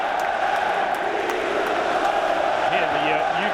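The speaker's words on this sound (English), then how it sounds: "Here the Juve crowd on their feet." A Juventus home crowd at a Serie A match against Cagliari, a broad continuous roar of cheering, steady and distant, with a voice audible over it.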